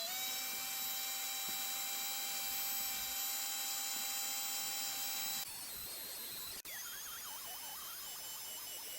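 A steady, high-pitched drill whine boring holes in a metal speaker grill runs throughout, its pitch shifting partway through, with a sharp click near the end.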